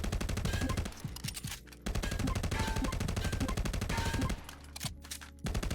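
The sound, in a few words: full-auto gunfire at targets in a VR shooter game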